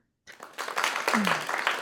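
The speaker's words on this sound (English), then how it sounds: "So let's give a big round of applause to Miuru." After a brief silence, a round of applause starts up to welcome a guest onto a yoga podcast, steady clapping that swells and holds with a voice briefly audible within it.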